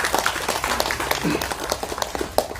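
An audience claps at a Tamil film event for the launch of an OTT platform, with a dense patter of many hands close by. Faint voices mix in.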